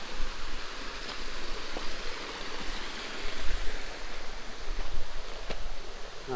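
A mountain stream in the Caldas mountains of Colombia runs over stones, a steady, close rushing and gurgling of water with no voices.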